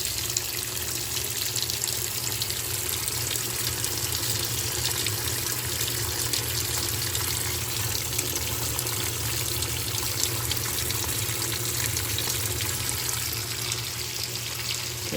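A washing machine fills with water after start is pressed, producing a steady, loud rush of flowing water that continues unchanged throughout, with no voices.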